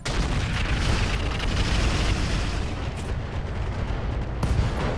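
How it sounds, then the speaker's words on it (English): An ammo explosion tears apart a mech in a RogueTech BattleTech game, a loud, sustained roaring blast with heavy booming rumble that fills the whole stretch without letup. "Got an ammo explosion on him."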